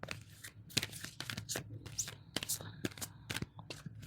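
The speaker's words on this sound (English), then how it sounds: "And the Sacred Geometry deck. Shuffle, shuffle, shuffle." A Sacred Geometry card deck is shuffled by hand, giving quick crisp riffles and soft card slaps in uneven bursts, quiet and close, with brief speech in between.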